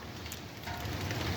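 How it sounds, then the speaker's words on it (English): Light morning rain falls as a steady, soft patter with no voices, ahead of a thunderstorm near Bismarck, North Dakota. "we're getting a little rain this morning"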